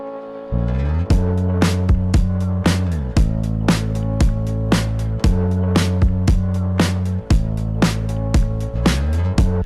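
A looping drum beat with crisp, steady hits repeats alongside a buzzy, distorted bass pluck and sustained chords, loud and up close.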